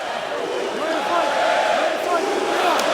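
Dense arena crowd noise at a UFC 142 fight before a bout between Felipe Arantes and Antonio Carvalho, a steady loud roar of cheering fans with no distinct breaks.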